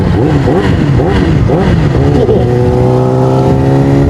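A Yamaha R6 sport motorcycle revs loudly up and down several times through its exhaust, fitted with a silencer insert, then settles into a steady, throaty rumble close by.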